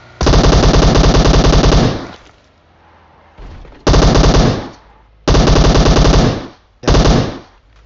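Automatic gunfire in the PUBG Mobile video game: loud, tight bursts of rapid shots, four long strings separated by short pauses, with brief echoing tails.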